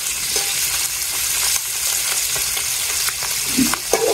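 Fish frying in a hot pan at a home kitchen, a loud continuous sizzle and crackle close by, with occasional spatula clinks and stirring taps toward the end, no voices.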